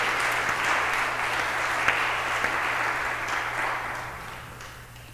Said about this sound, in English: Can we give a round of applause to our delegates to our Diocesan Convention?